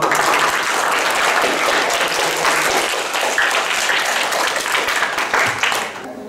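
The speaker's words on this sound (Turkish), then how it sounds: "Herkes kendini bir alkışlasın." A large crowd in a mosque claps steadily and densely for several seconds, the applause tapering off slightly at the end.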